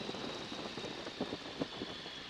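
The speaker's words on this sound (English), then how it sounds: "Listen to the whistle. This is what it's going to sound like when you flare." A 1942 Boeing Stearman biplane flaring for landing gives a steady, thin airflow whistle over a low, rough engine drone, continuous and fairly quiet.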